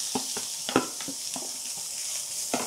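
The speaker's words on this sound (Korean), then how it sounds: "당근은 그냥 볶을 수 없고 기름 정말 조금 넣을 거예요" Carrots stir-fry in about half a spoon of oil in a pan, a soft steady sizzle with a few distinct scraping taps of the utensil spaced through the short stretch, close and alone without speech.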